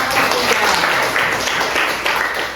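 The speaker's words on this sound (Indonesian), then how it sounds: "Kasih aplaus untuk kelompok" Classroom applause for a group of students: a dense, steady wash of many hands clapping, loud and close, lasting the whole stretch.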